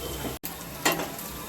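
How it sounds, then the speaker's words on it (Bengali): Balls of cabbage manchurian dough fry in hot oil with a steady, soft sizzle, heard close and fairly quiet, with a brief break and a small stirring swell partway through. "এবার আমি তেলে ভেজে নেব।"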